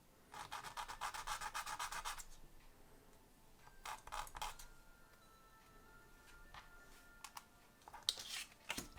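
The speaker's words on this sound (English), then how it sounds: "and then sand them down as well to make them nice and neat" Wooden Moomin house kit parts are sanded by hand, making quiet, close rubbing strokes in short rhythmic bursts with small clicks and pauses between them.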